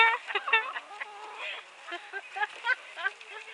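A flock of chickens clucks and squawks nearby in a busy, irregular chatter of short calls, fairly loud and continuous, with people talking lightly among them.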